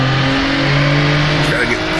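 A Jaguar D-Type's engine revs hard with wheelspin in the rFactor2 racing game, a loud sustained buzzing drone with steady harmonics that waver slightly near the end.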